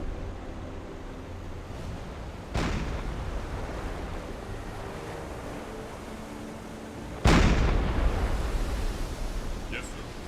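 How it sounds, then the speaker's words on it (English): Enemy shells and gunfire in a submarine video game, heard as two heavy booming blasts a few seconds apart over a continuous low roar of sea and engine noise. "They're still out there shooting."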